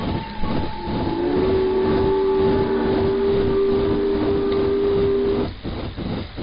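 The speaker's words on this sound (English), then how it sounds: "very nice big boy hauling freight across America" A Big Boy steam locomotive hauls a double-stack freight train over Sherman Hill in Train Simulator 2019, with a steady, loud rumble and clank of cars and a long sustained whistle tone before the noise drops off.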